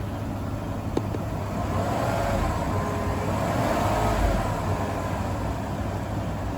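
A 2014 GMC Sierra pickup with a power-loss fault is revved in place, its engine holding a steady, loud, broadband drone with a low rumble and no clear rise or fall across the clip.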